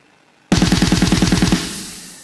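MIDI drum blast beat played at default hit intensity, a fast, machine-gun run of about fifteen evenly spaced, equally loud hits that starts abruptly and stops after about a second, leaving a short decaying tail.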